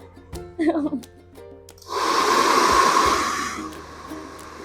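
A handheld hair dryer blows for about two seconds during a home haircut. The steady airy rush switches on after a voice speaks, then fades out, with talk heard before it.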